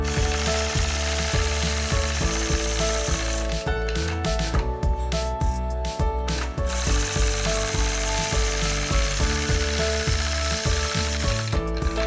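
A sewing machine stitches quilting lines guided by a 4-N-1 ruler, its needle clicking in a fast, even mechanical rhythm that pauses briefly and resumes, close up and alone without talk.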